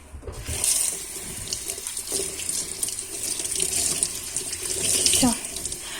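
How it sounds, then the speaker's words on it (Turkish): Water runs steadily from a faucet into a kitchen sink while the inside of the sink is being washed, with a continuous splashing rush and a few light knocks and scrapes. "Bir də moykanın içərisini yuyacağam."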